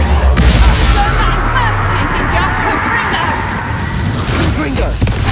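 A Bombarda spell blasts in Hogwarts Legacy, a booming burst sunk into a dense, continuous wash of battle effects and score, with voice-like babble mixed through the fight.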